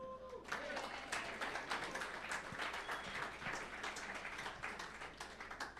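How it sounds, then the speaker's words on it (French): An event audience of about a hundred people applauds itself, a faint, distant patter of many hands clapping that runs steadily after a brief voice at the start. "Vous pouvez vous applaudir."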